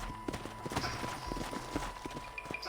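Horse hooves clip-clop steadily in Red Dead Redemption, a brisk, close rhythm of sharp hoof strikes on the ground, riding alone without talk.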